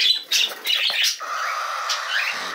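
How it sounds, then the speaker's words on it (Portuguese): Caged birds at a breeding aviary chirp and squawk after being let out, a busy overlapping flurry of loud, close calls with a steady high trill running underneath. "Eu vou soltando todos os meus pássaros aqui do criador."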